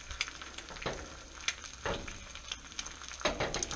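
Food searing in hot oil in a cast iron pan, a steady close sizzle with small crackling pops and a few louder spits, no talking.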